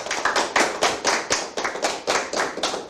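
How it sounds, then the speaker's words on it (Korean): A small audience at a Korean talk about the Mugunghwa flower gives a brief round of clapping, loud and close, in uneven rhythmic bursts with a few distinct slaps standing out, and no one speaking. "무궁화 테마도시 전북 완주군과 충남 보령시를 위해서도 박수 한번 부탁드리겠습니다."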